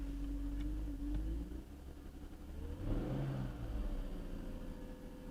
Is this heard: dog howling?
no